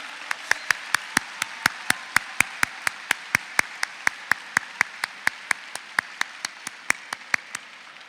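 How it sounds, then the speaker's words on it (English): Steady, evenly spaced claps ring out at a Dallas ISD scholars recognition ceremony for grades 7 through 12, a crisp rhythmic beat of about two or three per second lasting the whole stretch. "please give yourselves a huge round of applause right now"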